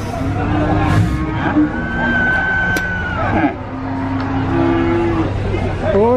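A Simmental cow moos at a busy livestock market in Sragen, Central Java, during weighing, its long low calls repeating close by over a steady crowd hubbub and background voices.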